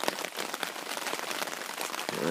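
Rain patters steadily on a camping tent beside Lake Superior in Michigan's Upper Peninsula, a fairly soft, close, continuous spatter of drops on fabric with no talking.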